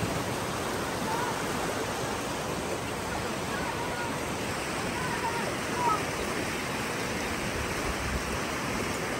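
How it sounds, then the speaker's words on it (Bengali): A strong current of clear water rushes between big rocks in a hill stream, a steady, loud broadband roar that fills the whole stretch without pause. "আর পাথরের মধ্যে দিয়ে এই জায়গায় জল যেতেছে পানির প্রচুর স্রোত"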